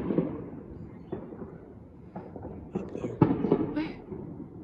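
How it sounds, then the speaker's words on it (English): A lone New Year's Eve firework bursts with a sharp crack amid faint distant pops and a low outdoor murmur, with people talking quietly. "Singular firework."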